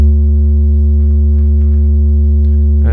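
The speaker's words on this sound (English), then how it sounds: "So I'm going to feed my sine wave again." Steady sine wave from a Roland System-500 synthesizer module, a loud continuous low-pitched tone with a faint hum, holding unchanged for about three seconds before a brief click at the end.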